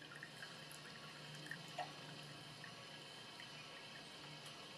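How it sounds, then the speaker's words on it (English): Water trickling and dripping from wet wool fiber held up over a dye bath of red alder cones, a faint steady patter with a couple of slightly louder drops, no voices. "And then I just let it drip."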